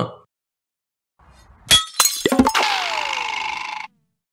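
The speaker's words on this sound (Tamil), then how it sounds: "இப்படி கார் கண்ணாடியை உடைச்சாலும்" A car window's glass is smashed: a few sharp cracking impacts followed by a loud, sustained shatter of crumbling, tinkling shards that rings out for over a second before stopping abruptly.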